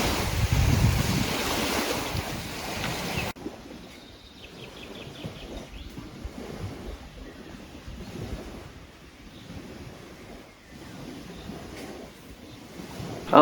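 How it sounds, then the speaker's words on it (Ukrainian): Waves on the Dnieper at the Kremenchuk reservoir wash and roar like the sea beside a riverside campsite, with a steady surf rumble and gusts of wind buffeting the microphone. "Тут шумить Дніпро, наче море."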